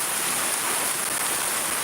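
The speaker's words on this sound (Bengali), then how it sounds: "অনেক বৃষ্টি হচ্ছে অনেক" Heavy rain pours in Shariatpur, Bangladesh, a dense, loud, unbroken hiss of water filling the whole short stretch with no voices.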